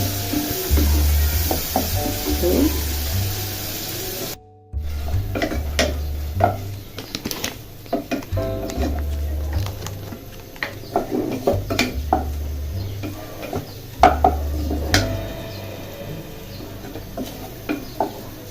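Onions fry in a pan with shrimp and radish greens, a low sizzle under scraping and clanking from a spatula stirring against metal, nearby and steady throughout.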